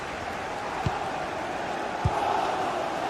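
A stadium crowd in a football video game keeps up a steady, loud roar throughout, with two brief thuds rising out of the noise.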